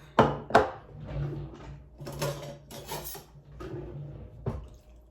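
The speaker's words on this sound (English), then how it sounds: "So now I'm done rinsing the chicken and I'm about to cut it up." Rinsed raw chicken thigh meat being cut into small pieces, heard as a few sharp knife knocks on a board followed by softer scraping and slicing strokes at close range.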